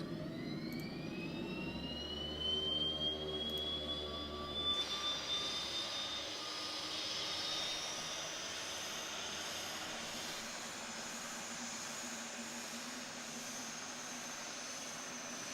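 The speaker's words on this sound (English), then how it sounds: "Let engine start." DHC-6 Twin Otter engine starting in the Prepar3D flight simulator: a whine rising steadily in pitch with a low rumble, then settling into a steady turbine hum, moderate and alone.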